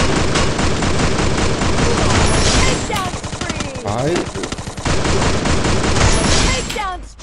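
Rapid bursts of automatic gunfire from the video game Free Fire crackle loudly almost nonstop, with someone speaking briefly in Hindi during a short pause.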